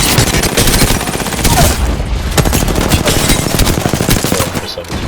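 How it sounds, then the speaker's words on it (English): Alternator submachine gun fire in Apex Legends, rapid continuous automatic bursts rattling loudly and densely for several seconds, with sharp cracks layered over the stream. "They're shooting alternators at me long range"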